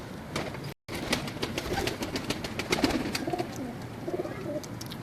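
Pigeons, including Firozpuri birds, on a rooftop in Lahore, with low coos and soft bird calls under steady ambient noise and scattered clicks.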